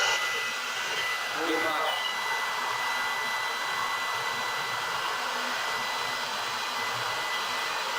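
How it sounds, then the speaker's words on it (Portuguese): A hair dryer blows steadily on a liquid in a heat demonstration, a loud, constant whooshing hum that runs unbroken from start to finish. "Ele vai pegar um secador de cabelo"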